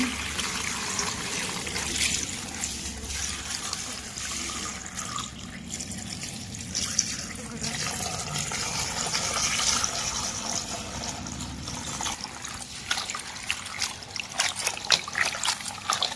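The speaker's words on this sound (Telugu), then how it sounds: "గోంగూర కూడా శుభ్రంగా ఇప్పుడు ఆత్ర పోసుకొని కడిగేసుకుందామండి" Gongura sorrel leaves are washed in a kitchen, with water trickling and splashing continuously over the leaves and sporadic rustling and handling noises up close, no speech.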